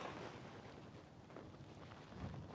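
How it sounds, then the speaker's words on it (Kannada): Wind gusting across a hilltop at Ambaji Durga fort, a faint, steady rushing buffet on the microphone with slight swells and no voices. "ಗಾಳಿ ಬೀಸ್ತಾ ಇದೆ"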